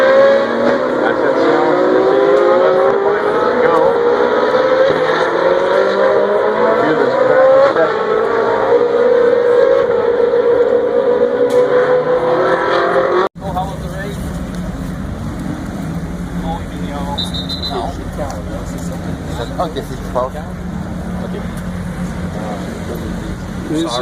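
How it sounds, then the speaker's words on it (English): Ferrari Challenge race cars run on a track during a practice session at the Montreal Grand Prix weekend, with loud, sustained engine roar and rising pitch sweeps as they pass. A sudden cut leads to quieter crowd and ambient noise. "These are the Ferrari Challenge cars."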